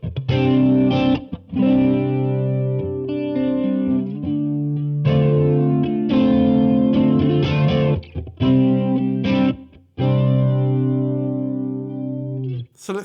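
Guitar runs through a Warm Audio WA-C1 chorus pedal set to a slow rate and high depth, giving a series of ringing chords and picked notes with a subtle, swirling shimmer. The playing is close and steady, with short pauses and no talking.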